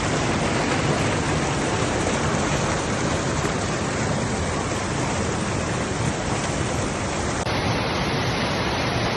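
A waterfall along the Meeks Bay trail gives a loud, steady, close roar of rushing water that continues unbroken throughout, with no voices.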